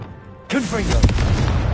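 A Confringo fire spell bursts in Hogwarts Legacy, a single sharp blast with a curling, whooshing magical tail that rings on for over a second against a steady game backdrop.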